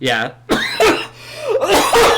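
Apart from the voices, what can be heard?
cough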